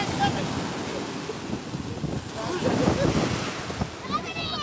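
Sea waves washing onto the shore with steady wind buffeting the microphone, a continuous loud roar with swells rising and falling throughout.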